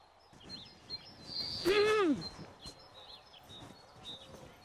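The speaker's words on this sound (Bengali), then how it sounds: "এই যে পাখি ডাকতেছে" A single bird calls clearly with a rising, warbling chirp, surrounded by faint quieter tweets and light background noise.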